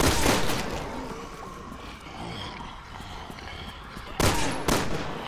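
Rapid bursts of gunfire in Resident Evil 6, sharp cracks opening the passage and again near the end, with rumbling game ambience between.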